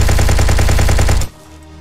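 A rapid, steady machine-gun burst cuts down zombies in Inglorious Waifu Vs Nazi Zombies, loud and close, about a dozen evenly spaced shots, then stops abruptly into quiet.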